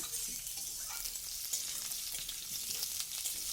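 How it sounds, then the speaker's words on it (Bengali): Potato pieces stirred in hot oil in a pan while frying for a bitter gourd dish, a steady close sizzle with soft crackles and occasional scraping stirs, no talking. "এবার আলুটাকে তেলের মধ্যে একটু নাড়াচাড়া করে নেব"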